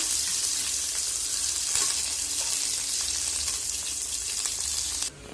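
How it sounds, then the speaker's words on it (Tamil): Onions sautéing in oil with garlic and curry leaves, giving a continuous, even close-up sizzle with faint stirring that drops off sharply at the very end. "இப்போ வெங்காயம் நல்லா நம்மளுக்கு வதங்கிடுச்சு"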